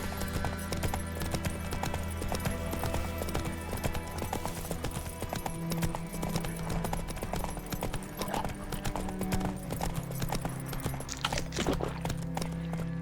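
Horse hooves clip-clop at a steady trotting rhythm across the whole stretch in The Witcher 3, loud and close under a constant game ambience, with faint occasional voices.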